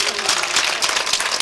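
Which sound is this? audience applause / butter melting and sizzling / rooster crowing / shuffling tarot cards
audience applause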